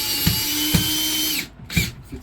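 Power drill driving screws into boat ceiling panels, loud and close, with a steady whirring motor, short bursts and brief pauses, and a couple of sharp ratcheting clicks.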